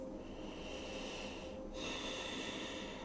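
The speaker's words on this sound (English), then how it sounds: "Last deep inhale here." Slow, deep breathing during a flexibility stretch, a long steady exhale-like hiss with a brief pause midway before another breath, quiet and close.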